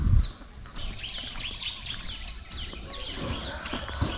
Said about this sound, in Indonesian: Masih banyak kedengaran suara-suara burung.